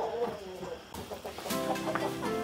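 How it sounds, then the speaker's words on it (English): Chickens cluck and murmur steadily inside a chicken house heated by lamps, a close, continuous flock chatter with no talk. "All the chickens are inside."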